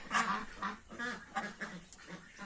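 Geese honk repeatedly at close range in a farmyard, several loud rhythmic calls following one another in quick succession with no talking.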